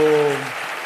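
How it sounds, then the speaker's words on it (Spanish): Applause from a conference audience breaks out for Cayetana Álvarez de Toledo's talk, a dense wash of clapping that rises as a speaking voice trails off at the start. "un gran aplauso por la exposición"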